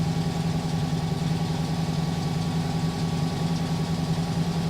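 A warbird's piston aircraft engine idles before run-up with a steady, throbbing low rumble, running continuously and close by.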